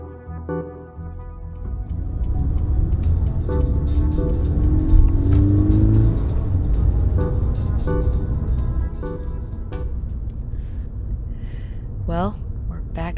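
Steady low rumble of a car driving along, continuous and fairly loud throughout, with voices talking inside over the road noise.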